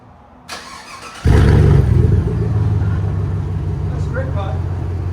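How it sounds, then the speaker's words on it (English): A 2019 Chevy Tahoe with a 5.3L V8 running a straight-pipe exhaust and no muffler fires up with a loud burst, then settles into a deep, steady rumbling idle close by. "So right now, it's gonna be a straight pipe sound with no muffler."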